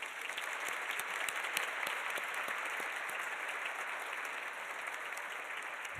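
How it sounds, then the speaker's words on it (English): An audience applauds Jakub, Dana and Lisa at a 1st Tuesday event, a steady wash of many hands clapping that holds at an even level for the full six seconds with no talking over it. "Everyone, please, a round of applause for Jakub,"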